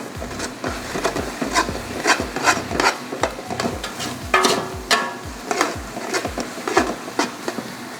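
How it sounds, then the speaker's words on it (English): A spoon scrapes and stirs a dry mix of chili powder, granulated garlic and kosher salt in a pot, with steady rhythmic rasping strokes, close and fairly loud with no talk. "So we're going to give this a quick little stir."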